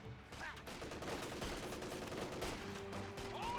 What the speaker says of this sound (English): The 50 cal is an excellent MG.